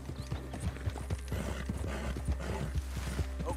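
Horse hooves clip-clop steadily in Red Dead Redemption 2, a quick rhythmic series of close, moderately loud hoofbeats with game ambience and faint mechanical noise beneath, no talking.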